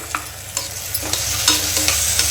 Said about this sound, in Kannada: ಅದನ್ನು ಕೂಡ ಇವಾಗ ನೀಟಾಗಿ ಹಸಿ ವಾಸನೆ ಎಲ್ಲ ಹೋಗೋ ತನಕ ಫ್ರೈ ಮಾಡ್ಕೋಬೇಕು